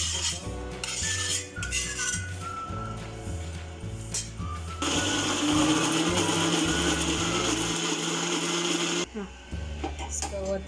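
Mixer grinder whirring as it grinds chutney for masala idli, a steady loud motor roar that runs for several seconds after clattering kitchen sounds and music, then cuts off abruptly.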